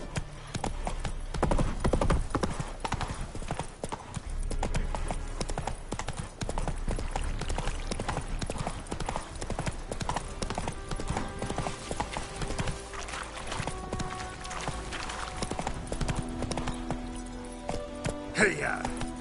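Roach's hooves clatter in a fast, steady gallop in The Witcher 3, loud and close from start to finish, with game music and other background sounds layered beneath.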